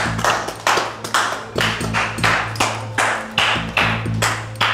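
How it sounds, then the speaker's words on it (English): Office staff applaud in a run of sharp, evenly spaced bursts of clapping, each swelling and fading in turn, loud and close with no talk over it. "So give yourselves a huge round of applause."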